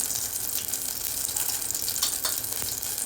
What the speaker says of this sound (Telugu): ఇక్కడ 1 టీ స్పూన్ నూనె వేసుకుని ఆవాలు, మెంతులు మనం ఇప్పుడు వేసుకుందాము